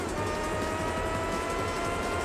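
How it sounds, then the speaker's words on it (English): A race car engine in the Gran Turismo 4 video game, with a dense, sustained high-revving drone that stays steady and loud for the whole stretch, with no talk over it. "The music is this engine sound."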